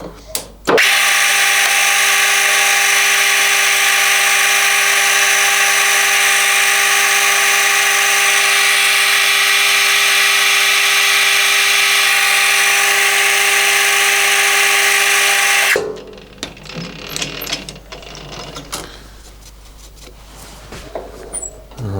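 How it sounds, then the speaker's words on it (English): A lathe drills a 3 mm centre hole in a steel flywheel part for a hot air engine. A loud, steady, high machine whine runs unbroken for about fifteen seconds, then stops abruptly, leaving quieter clicks and handling noises. "I'm going to drill a 3mm hole in the centre of it"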